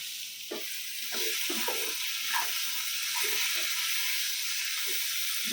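Water poured into a hot pan of frying spices sets off a loud hissing sizzle that holds steady, broken by scattered crackles and stirring scrapes.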